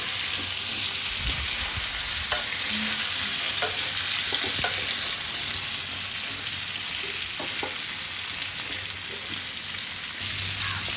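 Mango pieces sautéed in melted sugarcane jaggery for a Bengali sweet mango pickle produce a steady, moderately loud sizzle, with occasional stirring scrapes and soft knocks against the pan.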